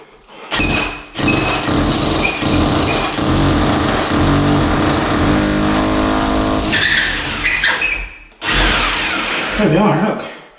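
A loud hammer drill grinds and rattles in long continuous bursts, pausing briefly between runs, close up and harsh.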